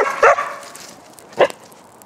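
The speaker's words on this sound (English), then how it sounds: "There might be a few barks and carrying on." A dog at an outdoor biochar charcoal burn gives two short, sharp barks about a second apart, close and loud over a quiet background.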